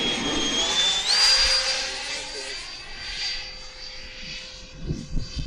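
A Freewing F-15 RC jet flies on a gusty, windy day, its motor holding a steady high whine that swells and shifts as it passes, with wind noise throughout and a voice briefly heard.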